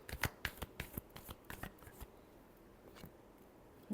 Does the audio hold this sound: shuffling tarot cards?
yes